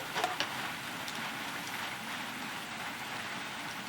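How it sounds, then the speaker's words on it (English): Steady rain falls outside a workshop, a soft continuous hiss with faint drips and ticks throughout, a few brief louder taps near the start, no talk. "Raining out there as usual."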